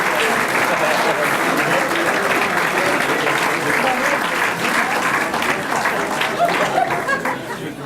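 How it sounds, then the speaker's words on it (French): A large audience at the Quebec student sport network's excellence gala applauds steadily, a dense and loud wash of clapping that holds for several seconds and fades slightly at the end, with murmuring voices underneath. "Là, vous pouvez applaudir."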